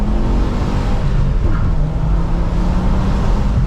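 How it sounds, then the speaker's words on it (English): An ex-police Volvo T5 five-cylinder engine drones loudly and steadily while driving with the windows down, its tone shifting slightly as the car holds speed, with road roar mixed in and no talk. "Windows down, here's some 5-cylinder T5 noises."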